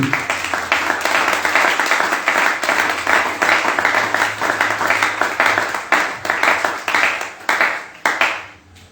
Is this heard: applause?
yes